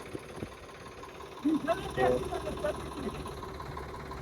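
A loaded tractor carrying soil on a village trip runs with a low, steady engine drone, while a voice talks over it and a few louder bumps come through midway.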